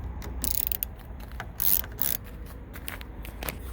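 A ratchet loosens a Torx 20 screw on a Buick Encore exterior door handle, quick close clicking in uneven bursts, with no voices.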